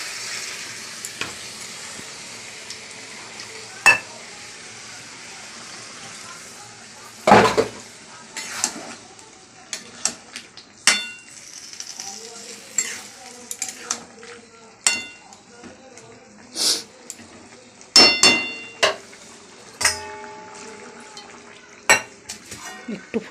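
Mustard paste being stirred into a frying pabda fish curry with potatoes, a ladle scraping and clinking against the pan over soft sizzling, with sharp utensil knocks at irregular intervals.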